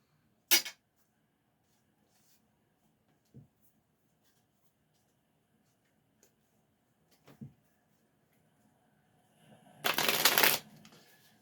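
Tarot cards are shuffled and handled in a quiet room, a sharp riffle at the start, a few soft taps and shuffles, then a louder flurry of riffling near the end.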